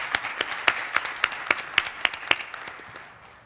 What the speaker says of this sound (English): if we could please give one more round of applause to Paul and Shirthia for sharing their stories